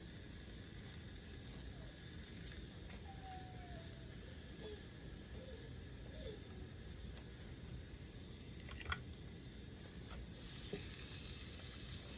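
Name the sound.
hamburger patties frying in their own grease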